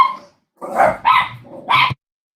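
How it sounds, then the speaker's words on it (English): Two chihuahuas bark loudly and close by in three sharp, closely spaced bursts, with a brief yelp first and silence afterward. "Can you hear my dogs bark?"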